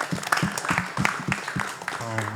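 Scattered applause at a conference event, a brief patter of individual hand claps mixed with a voice talking over it.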